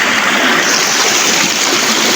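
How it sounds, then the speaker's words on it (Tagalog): A stream rushes strongly in a steady, loud, dense wash of water, continuous and close with no voices over it. "Medyo lumakas ng tubig."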